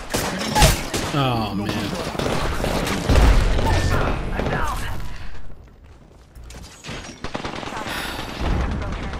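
Heavy gunfire in Apex Legends, with rapid bursts, booms and mechanical clatter stacking up close, easing briefly mid-way before more shots return. A player speaks briefly over the action.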